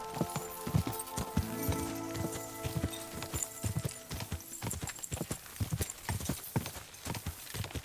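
Horse hooves in a video game clip-clop in a steady, close walking rhythm. Faint tonal sounds sit behind the hooves.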